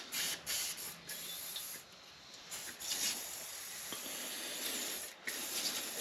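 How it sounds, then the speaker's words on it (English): WD-40 sprayed from an aerosol can while an old garage vise is being restored, a steady close hiss running for several seconds in broken bursts with short pauses between. "Might be wondering why I use WD-40."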